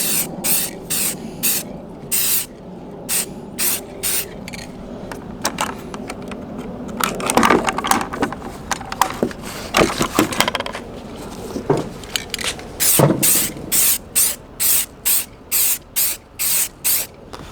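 An aerosol can sprays flat black paint onto an ammo can fire pit in short, evenly spaced hissing bursts, with rattling and clattering in the middle before the rhythmic spraying resumes.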